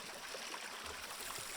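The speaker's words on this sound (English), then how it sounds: "just seeing a wall of water come right down here" Roaring Brook Falls waterfall gives a steady, faint broadband rush of falling water with no talk over it.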